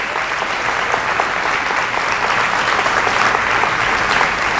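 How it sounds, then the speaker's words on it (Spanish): A congregation at a church service breaks into sustained applause, a full, even roar of many clapping hands filling the room at steady loudness. "¿Quiere dar ese aplauso?"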